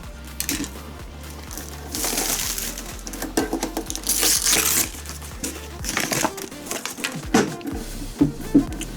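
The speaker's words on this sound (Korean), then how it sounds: "이거는 비닐만 뜯으면 될 것 같아요" Plastic wrap being torn and crinkled off a boxed power strip organizer, with bursts of sharp rustling, crackling and handling clatter close by, no talking.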